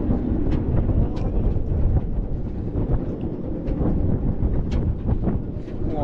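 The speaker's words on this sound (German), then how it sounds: "und windig ist es auch" Strong wind buffets the microphone in loud, uneven gusts on the Silver Star ride at Europa Park, Rust, a continuous low roar with occasional sharper bursts.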